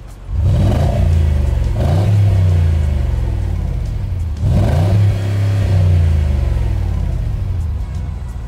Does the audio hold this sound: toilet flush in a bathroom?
no